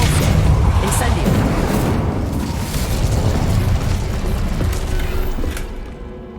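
A loud, sustained fiery blast from the Incendio spell in Hogwarts Legacy, with booming, rumbling bursts that roll on for several seconds before fading at the end.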